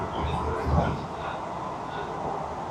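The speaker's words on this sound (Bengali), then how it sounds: "ট্রেন আমাদের ঢুকছে নৈহাটি জংশন স্টেশনে।" Sealdah–Krishnanagar AC local train rolling toward Naihati Junction, a steady low rumble of the coach in motion with a brief swell, heard from inside the train.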